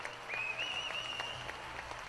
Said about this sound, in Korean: 2시간여의 알찬 무대에 관객들은 진심 어린 환호와 박수를 보냈다.